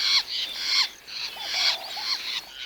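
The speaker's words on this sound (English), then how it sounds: "That's why so many birds are squawking around here." Grey-backed fiscal birds near a nest in the Serengeti give harsh, raspy squawks in a rapid series of bursts, loud and close, with no voices.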